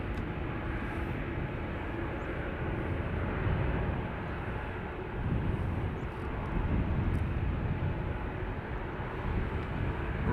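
Ryanair airliner arriving on the north runway at Dublin Airport, a steady broadband jet roar that holds at a constant level throughout, fairly distant and with no talk over it.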